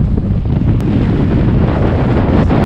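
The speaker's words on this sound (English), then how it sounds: "nasty headwind." A strong headwind buffets the microphone on a gravel bike ride through the Flint Hills, making a loud, continuous roaring rumble with no voices.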